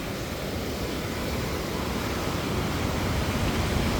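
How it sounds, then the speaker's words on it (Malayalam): Dam water near Jammu rushes forcefully through an outlet, producing a loud, steady broadband roar that holds constant throughout with no breaks and no talking. "എന്താ വെള്ളം പോണ നോക്കി"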